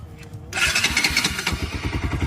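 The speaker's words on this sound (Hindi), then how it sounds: "अमन भाई एक बार स्टार्ट करना, पहले आप ये स्टार्ट करो RS200।" A Bajaj Pulsar RS200 motorcycle cranks and fires after half a second, then settles into a loud, close idle whose exhaust gives off a steady, rapid beat.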